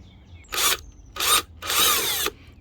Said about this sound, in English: I'm just going to pre-drill just a little bit.